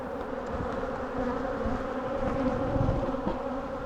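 Honeybees at an opened hive keep up a steady, dense buzzing drone close by, with no pauses and no voices.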